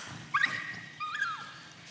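A small pug whimpers in two short, high, whiny cries, each bending upward and then falling away, close by and faint, with no voices over them.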